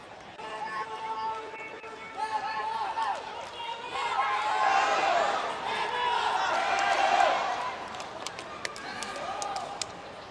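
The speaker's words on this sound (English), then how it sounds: "Here the Philippine crowd shouting on one side with the Chinese crowd shouting on the other" Philippine and Chinese crowds at a pickleball semi-final and final venue shouting and cheering from opposite sides, a sustained rising roar of many voices with scattered sharp claps and bounces.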